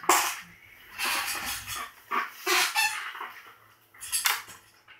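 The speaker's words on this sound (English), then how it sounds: "Sorry, my chair is annoying." A creaky office chair squeaks repeatedly in a quiet room, several sharp, uneven squeals and creaks in close succession, loud and near, with no talking.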